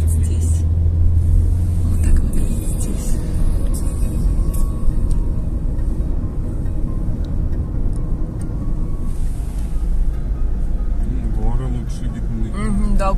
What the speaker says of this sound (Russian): Вот едем сейчас по новому мостику.